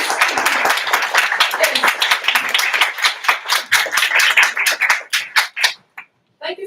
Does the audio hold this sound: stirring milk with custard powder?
no